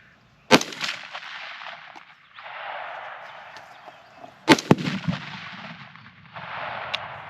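.50 Beowulf rifle shot striking a Tannerite target outdoors: a sharp, loud crack followed about four seconds later by a second heavy boom with rumbling decay, with quieter wind and background noise between the two blasts.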